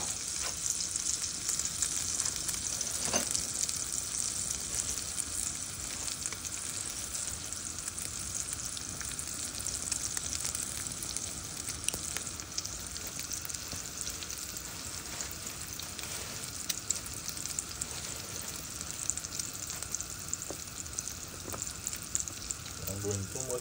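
Slices of wheat bread for French toast fry in a pan with a continuous, close crackling sizzle that holds steady for over twenty seconds, dotted with occasional pops and soft scraping.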